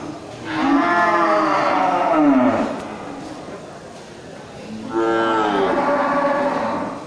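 Big beef cattle at a livestock market moo twice, each call long, loud and close, with a short quieter gap between them.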